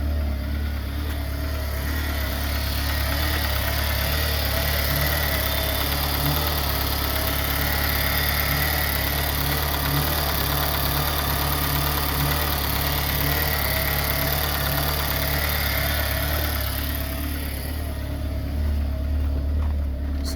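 A Hyundai i20 with a blown head gasket runs by itself with no one on the throttle, a steady, rough idle drone close by that continues uninterrupted throughout.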